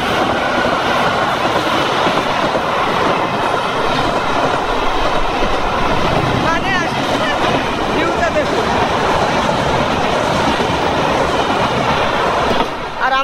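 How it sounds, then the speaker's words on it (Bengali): A train rolls past close by in Assam, India, with a loud continuous rumble and rhythmic clickety-clack of wheels that fills the whole stretch while people talk over it. "এই যে একটা ট্রেন যাচ্ছে।"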